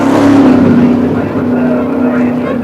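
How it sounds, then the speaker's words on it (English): A 1,500-horsepower dragster at Santa Pod in 1973, exhaust caps off, fires up. Its engine settles into a loud, close, deep rough idle with a strong steady drone and slight surges in level. "So the exhaust caps have now been removed and they're ready to fire the machine up."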